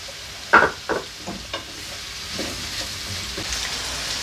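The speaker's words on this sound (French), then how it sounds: "je vais laisser mes légumes rissoler un bon quart d'heure" Red kuri squash and leeks sautéing in a pan for an autumn quiche, with a few stirring scrapes and clatters at first, then a soft, steady low sizzle that carries on alone.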